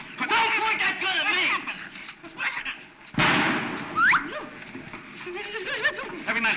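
A single sharp gunshot bursts out midway through a 1936 Three Stooges courtroom comedy, surrounded by excited voices and yelping, dog-like cries.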